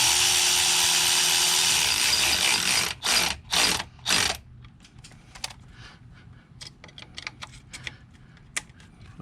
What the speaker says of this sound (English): I'm going to go ahead and tighten the throttle body tube.